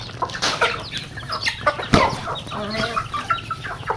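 Several chickens cluck and chatter nearby in a busy, overlapping stream, with a sharper squawk standing out midway.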